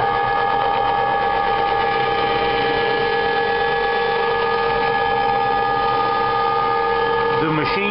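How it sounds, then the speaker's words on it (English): A CNC machine running under WinCNC moves its tool down toward a tool length measuring switch. The close, steady whirring motor tone holds with a constant pitch, and someone talks over it. "The machine should wrap it down until it's close, then it goes at slow speed until it touches off, then it measures it back up."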